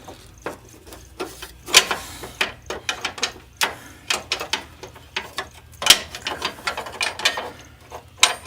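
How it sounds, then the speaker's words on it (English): A 19 mm box-end wrench ratchets on a bolt while a rear bumper is fitted to a Jeep TJ, making close, quick metallic clicks in uneven bursts. "So, I'm going to take a 19 millimeter box-in wrench here."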